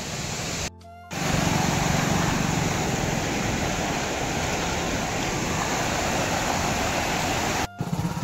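Rushing monsoon water pours at Mankadadian Waterfall in Gajapati, Odisha, a loud, unbroken roar of dense noise that fills the whole stretch, with only two brief dropouts.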